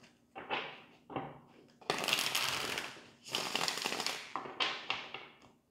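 Tarot cards being shuffled by hand, several close riffling, rustling bursts of varying length with brief pauses, fairly quiet.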